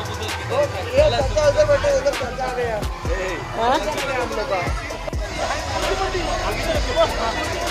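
Crowd babble at a crowded resort picnic in Virar near Mumbai, many overlapping voices chattering close and loud with shouts rising throughout.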